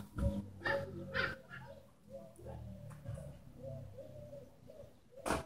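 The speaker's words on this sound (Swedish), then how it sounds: "Och nu har man duvorna här." Pigeons coo repeatedly outdoors in a village in summer. The low, rolling calls come in several phrases, with occasional sharp knocks and background activity mixed in.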